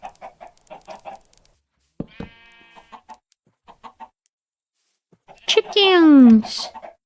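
Chickens in the video game Minecraft, on a survival server, give a series of short clucks, then a loud drawn-out squawk near the end. Clear and close, with gaps of near silence between calls.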